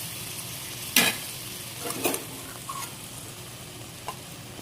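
Masala sizzling in hot oil in a pan for a paneer curry, a steady low fry broken by a few sharp scraping stirs close by, with no voices.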